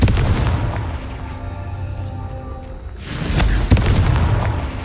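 The Confringo spell in the Hogwarts Legacy video game lands as a loud, booming explosion, followed by a rumbling decay and then a second sharp blast and burst near the end.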